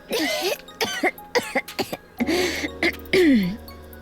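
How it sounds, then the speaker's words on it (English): A game character in NIKKE coughs in a series of harsh, wet bursts with throat clearing between them, close and loud, broken by short pauses and ending in a longer hacking fit. "will your cough never get better?"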